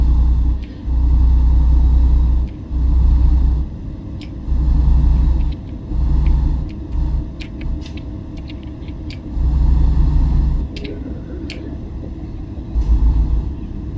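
Truck engine in American Truck Simulator while driving through town, a loud, low rumbling drone that swells and dips in repeated surges, with a few faint high clicks and blips over it and no talk.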